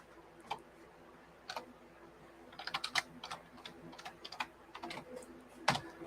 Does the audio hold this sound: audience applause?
no